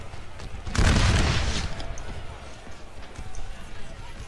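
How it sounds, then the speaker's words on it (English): A loud burst of gunfire erupts from an American Civil War battle in Napoleon: Total War, then fades into rumbling background noise and scattered distant shots. "These fucking gunshots are so loud."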